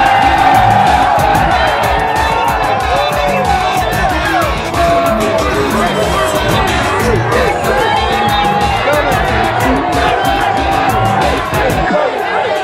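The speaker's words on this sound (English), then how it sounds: "Based on crowd response, we're gonna determine whose crowd response was for louder or who's louder for who" Loud crowd cheering, whooping and yelling for contestant number seven, Jessica, at a Battle of the Imports bikini contest, sustained and dense throughout with shouts rising out of the roar.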